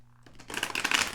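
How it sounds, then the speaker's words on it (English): Tarot and oracle cards being shuffled by hand, a quick soft riffle of flicking card edges that builds over about a second, close and quiet. "I'm going to shuffle just a little bit."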